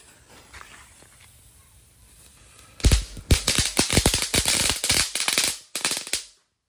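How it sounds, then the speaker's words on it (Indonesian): Dino egg firecrackers set off during Ramadan fireworks play crackle in a rapid, irregular burst of loud sharp pops lasting a few seconds, then stop, after a quiet lead-in. "selanjutnya kita nyalakan merton telur dino"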